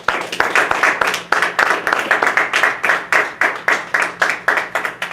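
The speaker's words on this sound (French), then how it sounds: "Une minute d'acclamation à la parole de Dieu." A church congregation claps in unison in acclamation, a loud, rhythmic series of sharp group claps at a steady, brisk beat with no talking over it.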